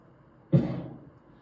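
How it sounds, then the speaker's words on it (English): A car trunk slams shut once at close range, a single sharp thud that rings out briefly and decays over about half a second, with quiet surroundings before and after. "he's shut the trunk or something and locked it"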